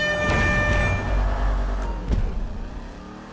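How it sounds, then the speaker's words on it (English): A car burns out in the video game GTA V, a loud continuous engine roar with tire noise that holds steady, then swells briefly and tapers off near the end, with no talking. "Oh, so I'm burning out."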